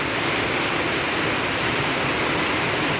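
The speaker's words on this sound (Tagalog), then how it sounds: "Nawala yung init kasi umulan." Heavy rain pours down steadily in a continuous dense hiss with no letup, filling the scene evenly and close by, with no voices over it.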